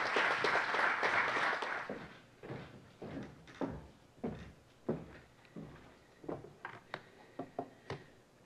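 An audience applauds to welcome a speaker to the stage, a dense burst of clapping that fades after two seconds into scattered, sparse claps and small knocks.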